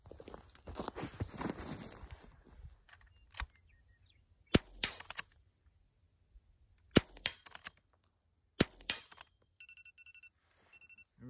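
Sharp .22 rifle shots at an outdoor shooting range, several single cracks spaced a second or two apart after a burst of rustling and movement, each loud and crisp with a short ringing tail.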